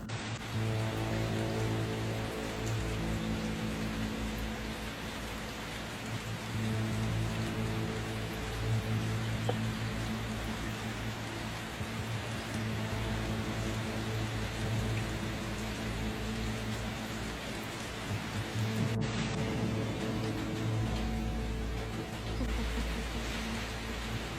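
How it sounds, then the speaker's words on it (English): Heavy rain pours steadily during flooding in Arizona, a dense, continuous hiss of water that stays loud and unbroken throughout, with no voices. "Arizona just got hit with 2 months of rain"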